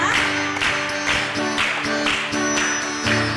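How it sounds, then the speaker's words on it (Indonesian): Children clapping hands in rhythm during an online Sunday school service, steady beats about every half second over a bright backing song with music, the claps blending with the instrumental track. "Tepuk tangan dulu yang di rumah diikutin ya."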